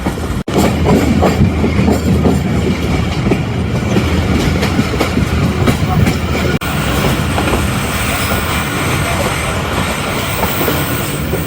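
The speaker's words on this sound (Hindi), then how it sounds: "8 डाउन तेज़गाम अप्रोच कर रही है चकलाला रेलवे स्टेशन पर" The 8DN Tezgam passenger train arrives at Chaklala railway station, a loud continuous rumble of rolling coaches with clattering wheels and metallic rattles close by, steady throughout.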